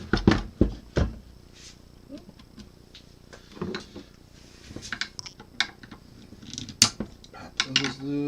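Screws being loosened on the belt adjustment of an industrial sewing machine, heard as scattered close metallic clicks, ratcheting ticks and small mechanical knocks with quiet gaps between them.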